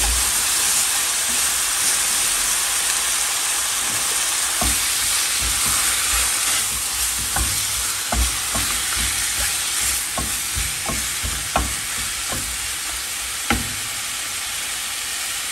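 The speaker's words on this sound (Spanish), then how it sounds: "Voy a agregar 100 pesos de carne molida." Ground beef frying in a pan gives a steady loud sizzle and hiss, broken by a series of sharp scraping taps from a utensil stirring the meat, with no talking.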